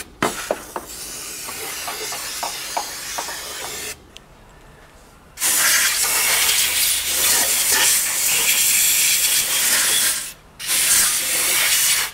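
Cleaner sprayed onto an engine gasket area during a water pump repair comes as two long, loud aerosol hisses, near and continuous, separated by a short quiet gap.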